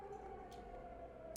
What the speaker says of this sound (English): once more, the siren sounds